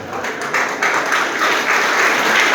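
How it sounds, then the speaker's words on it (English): Loud, sustained applause from an audience at a school prize distribution ceremony, continuous clapping filling the hall from start to finish without any talk over it. "Give a huge round of applause for all the girls."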